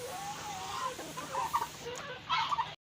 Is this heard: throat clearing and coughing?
no